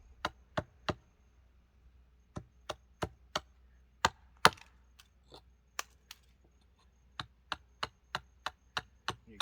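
A hatchet bites into wood again and again while a spoon is carved, giving crisp, close chopping knocks in short uneven bursts with brief pauses between groups.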